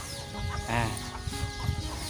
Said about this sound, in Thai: อันนี้คือไก่ของชาวบ้าน